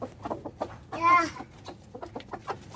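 Free-range Indonesian village chickens near a coop cluck in short, soft bursts, with one louder squawk in the middle, while a person talks quietly nearby.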